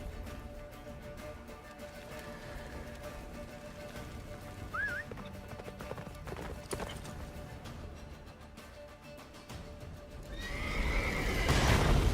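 Horse in The Witcher 3 galloping in a blizzard toward a fortress, with a brief whinny and continuous hoofbeats under wind, the rush of noise swelling louder near the end.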